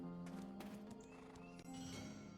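Horse hooves clopping in Black Desert Online as a horse arrives, steady game sound with layered tonal music or ambience throughout.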